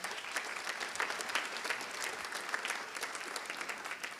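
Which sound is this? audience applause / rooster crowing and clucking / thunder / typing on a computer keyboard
audience applause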